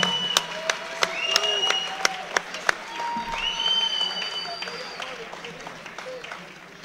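Applause from an audience after a women's fight at a combat event in Luxembourg, scattered sharp claps under a ringing, amplified announcer's voice that speaks throughout.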